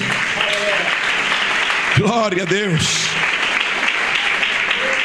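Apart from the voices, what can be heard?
audience applause in church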